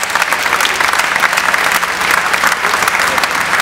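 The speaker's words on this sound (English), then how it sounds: "Give them a round of applause." Loud, close applause from the audience at the Hampton University Founders Day ceremony, many hands clapping in a dense, even burst that stays strong throughout.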